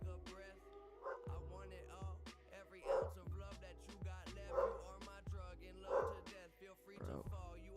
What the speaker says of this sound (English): don't know why my dog's barking.